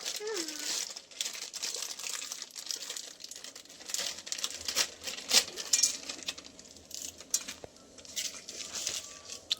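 Children tearing open and crinkling Maggi noodle packets in a home kitchen, with steady close plastic rustling and crackling and occasional sharper rips, while children talk over it.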